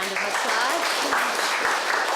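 Audience applause at a law lecture event, a dense steady wash of many hands clapping, brief and fairly close, with a hint of voice mixed in.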